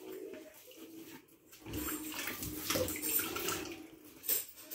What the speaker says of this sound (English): Plates again, I grasp it, wash it all around.